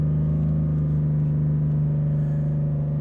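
A truck engine idles steadily in first gear with a deep, even drone, loud and close, holding one pitch for about three seconds with no rise in revs.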